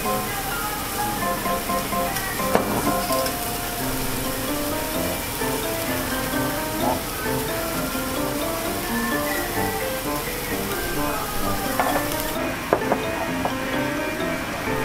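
Meat sizzles on a yakiniku grill at a Kurashiki barbecue restaurant serving horumon, a steady dense crackle filling the clip beneath faint background voices and restaurant noise.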